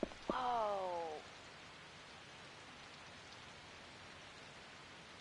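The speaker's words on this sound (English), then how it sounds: "The rain on the windows is so great looking. God, the sound of it is nice too." Steady rain patters on windows in the video game Yakuza 4, a soft continuous hiss that follows a brief tonal groan at the start and runs quietly to the end.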